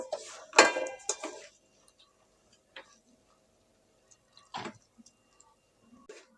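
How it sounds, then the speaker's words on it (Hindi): Semolina roasting in a pan over a low flame for jaggery halwa, with a clatter of utensil scrapes and ticks at the start, then sparse, faint scraping clicks separated by near silence. "अब हम इसे लो फ्लेम पर भून लेंगे सूजी को"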